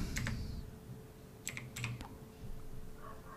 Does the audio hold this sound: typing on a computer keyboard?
yes